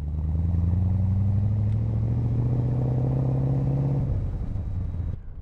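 A restored 1960s Aston Martin DBS V8 on a road test, its deep engine rumbling steadily and close for about four seconds before easing off, with no talk.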